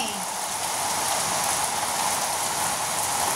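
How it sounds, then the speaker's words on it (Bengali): A heavy downpour lashes a house rooftop, a dense, unbroken roar of rain on surfaces, loud and close throughout with no voice heard. "এত জোরে বৃষ্টি হচ্ছে যে আমি অনেক চেঁচিয়েই কথা বলছি"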